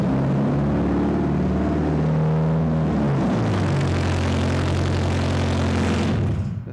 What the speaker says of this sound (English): They wrap the pedal and they hear this.